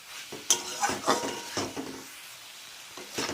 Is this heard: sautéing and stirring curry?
yes